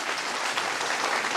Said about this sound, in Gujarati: માટે તાળીઓ પાડી દેજો.